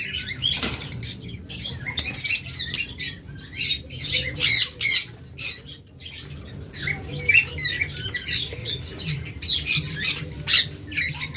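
Pet birds at a bird seller's stall, including green fisher birds and lovebirds, squawk and chirp loudly in dense overlapping bursts over a low, busy background murmur, with no clear speech.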